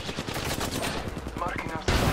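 Brief rattling automatic gunfire in Apex Legends, a quick run of loud close shots over about two seconds, ending in a sharper blast, with a voice briefly over it.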